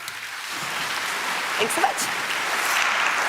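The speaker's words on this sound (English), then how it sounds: "let's give her a warm round of applause" A keynote audience at a corporate conference breaks into a warm round of applause, a dense rain-like wash of clapping that swells and holds while a speaker briefly talks over it.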